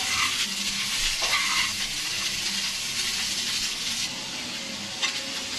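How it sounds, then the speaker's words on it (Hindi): Onion, cabbage and capsicum sautéing in a pan make a bright, continuous sizzle with brief swells as the vegetables are tossed, close and fairly loud throughout. "दो से 3 सेकंड के लिए इन्हें भी सोटे कर लेते हैं।"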